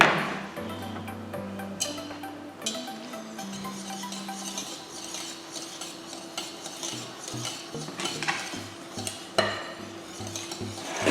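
Soy chocolate mousse mixture stirred in a bowl, a close, continuous soft rubbing and scraping with a few light knocks, heard without speech.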